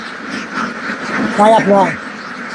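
Ducks on a farm of about a thousand birds give a couple of quick quacks near the end, heard under someone talking over faint background noise.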